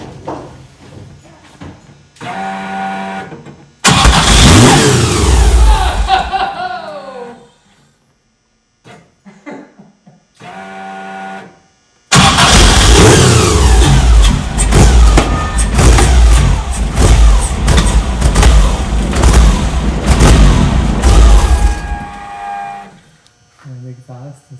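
VW Bus fitted with a swapped Subaru engine cranking and catching, then revving loudly in bursts close by with short quiet gaps, settling into a long, rough, rumbling run with repeated throttle blips.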